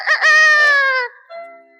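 A rooster crows at sunrise on a farm: one loud, drawn-out, harmonic call of about a second, with a brief fainter tail after it and no one talking.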